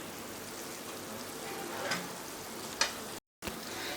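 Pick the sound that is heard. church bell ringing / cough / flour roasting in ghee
flour roasting in ghee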